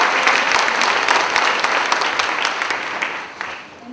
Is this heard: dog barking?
no